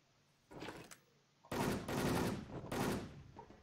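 Automatic gun fire in a video game, a short burst followed by longer sustained rattling volleys with brief gaps, fairly loud and close, no voices.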